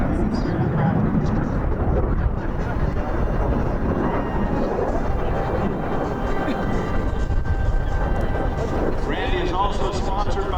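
MiG-17 jet making a low, tight 7G turn at an air show, a loud, continuous roaring rush of engine noise held steady throughout, with a commentator talking over it.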